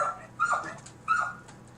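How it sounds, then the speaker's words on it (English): A starved, skinny guard dog gives a few high whimpering yelps and short barks, two clear bursts close by with quiet gaps between them, no talk over them. "That's the guard dog right now."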